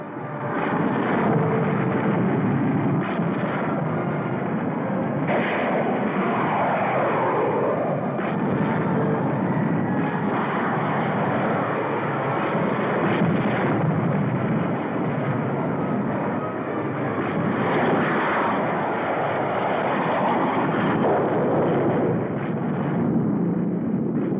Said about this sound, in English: Enemy jets approaching Boulder Dam.